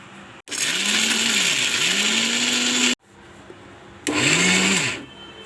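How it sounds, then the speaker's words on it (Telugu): Kitchen mixer grinder blending peanut chutney, loud whirring motor bursts that rise in pitch as they spin up, run for about two seconds, stop briefly, then restart for a shorter pulse. "ఫస్ట్ మిక్సీ వేసుకుందాం."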